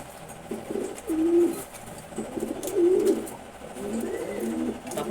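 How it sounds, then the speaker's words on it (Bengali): Grizzle pigeons in a loft coo in several soft, repeated, throaty phrases, fairly close, over a low background hum. "তারপর এখানে আছে হচ্ছে গ্রিজেল কবুতর।"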